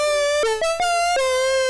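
A square-wave synth lead for a Mario Kart style tune steps through a few sustained notes with brief pitch jumps, buzzy and bright, heard alone at steady volume.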